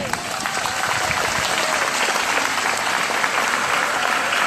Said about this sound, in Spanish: Esos aplausos son para Cristo.